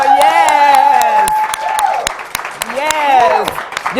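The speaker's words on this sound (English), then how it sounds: "Yes, can we give Shay a round of applause?" An audience at a women's empowerment event breaks into applause and cheering. Brisk clapping runs underneath loud overlapping voices and whoops for several seconds.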